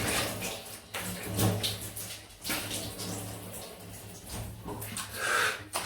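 Tap water runs steadily into a basin while a razor is rinsed after a wet shave, a continuous close splashing with shifting bursts and brief breaks as things are moved under the stream.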